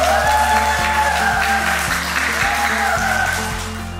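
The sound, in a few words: students applauding after a wheelchair dance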